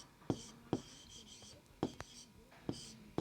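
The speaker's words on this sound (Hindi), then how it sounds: "तो हम यहां लिखेंगे डाक टिकट" Pen or chalk writing during a primary-school maths lesson on Indian currency, heard as several sharp scratchy strokes with a soft whispery texture, with quiet talk in between.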